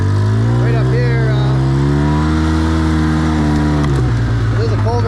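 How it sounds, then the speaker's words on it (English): A tractor engine runs steadily up close on a muddy newly built driveway, a loud continuous harmonic drone with a slight pitch shift near the end, while someone talks over it. "Well, there's the tractor. Tractor's great. Started right up."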